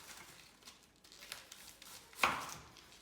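A knife chopping cabbage for sauerkraut into quarter-inch pieces, a few soft cuts followed by one sharper, louder chop on the board near the end.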